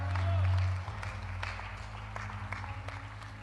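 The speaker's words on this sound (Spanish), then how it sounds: "¿Por qué no le das un fuerte aplauso al Señor?" A church congregation gives scattered applause during a Spanish-language sermon. The claps are sparse and fairly faint, following a low hum at the start.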